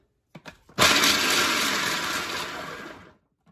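A loud, steady whir of a food processor blade grinding kale, starting after a couple of short knocks and running for about two and a half seconds.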